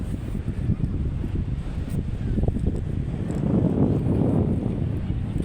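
Strong wind at sea buffets the microphone in a steady, loud roar that builds slightly toward the end, with no clear voices.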